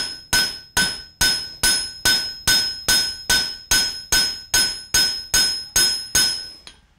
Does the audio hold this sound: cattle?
no